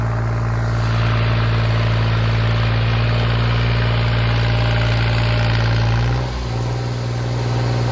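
A John Deere-style 3630 Special Edition tractor engine runs steadily throughout, a loud, close, continuous low diesel throb that dips briefly near the end before recovering, with no talking.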